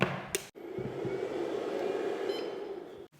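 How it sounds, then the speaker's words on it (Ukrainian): A battery charging station for a ground platform switching on, with a click followed by a steady whirring fan hum that runs for a few seconds before cutting off with another click. "Підключаємо дріт живлення, перемикач на фронтовій частині зарядної станції вмикаємо на положення ON."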